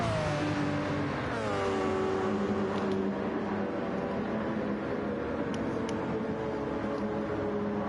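Porsche 919 prototype race cars roar in a racing video game at Daytona, a continuous engine drone with pitch rising and shifting as cars accelerate and pass, loud and sustained with no talk.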